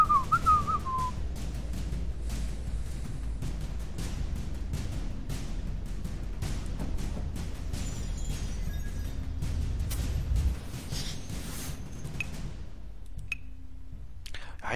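A whistling moth in a hidden object video game gives a short, bright descending whistle at the start, followed by sparse clicks over a low background hum.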